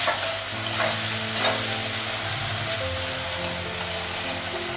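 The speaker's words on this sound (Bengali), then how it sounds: "পেঁয়াজটা একটু ভেজে নিই।" Onion frying in a pan of oil for a Bengali home dish gives a steady, close hiss and sizzle throughout, with a low hum and faint stirring scrapes, and no talk over it.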